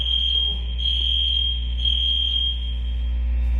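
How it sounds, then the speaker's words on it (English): Shrill, continuous gym fire alarm tone pulsing in long repeated bursts, loud and steady, with no voices. "That's the fire alarm going off."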